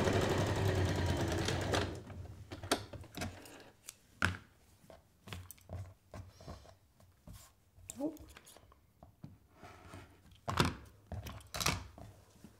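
A sewing machine stitches quilt block fabric in a loud, steady whirr for about two seconds, then stops, followed by scattered thuds and handling noises while a person talks.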